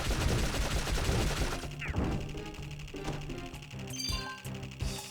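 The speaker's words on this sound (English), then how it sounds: "Look at that machine gun go." Machine gun fire in the action role-playing game Dark Cloud, a rapid rattling stream for about a second and a half, then scattered clanks and thumps of combat.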